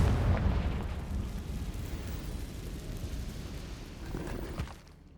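A Confringo spell explosion in a video game opens on a loud, deep blast that decays into a long rumbling, crackling tail and fades out near the end.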